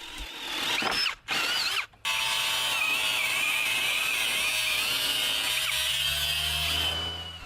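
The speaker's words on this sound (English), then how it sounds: "2 of the 2x6s are measured and 15/16 holes are drilled through to accept a 3/4-inch EMT conduit" A power drill bores 15/16-inch holes through 2x6 lumber, a loud, close, steady whine with two brief stops early on, then one long continuous run of grinding cutting.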